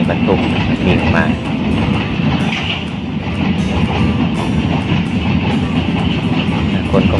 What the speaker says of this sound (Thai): รถไฟบรรทุกวิ่งมา